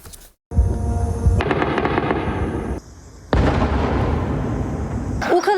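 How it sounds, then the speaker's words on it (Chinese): Explosions over Kyiv at night during a missile attack, heard as loud sustained crackling bursts in two long stretches separated by a quieter gap, with no talking. "烏克蘭基輔夜空徹夜爆炸聲不斷"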